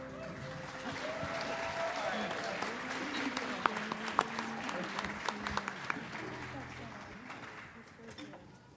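Audience applause after a song at a Havdalah concert, a dense wash of clapping with a few sharp claps standing out, and a voice speaking over it.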